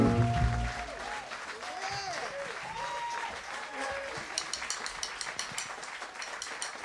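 An audience applauds at a concert at the New Orleans Jazz National Historical Park, with a voice carrying over the clapping at first before the claps grow distinct and scattered.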